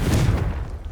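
A Confringo blast spell cast in Hogwarts Legacy: one deep, booming burst up close that rolls off and fades within a second, with no talking.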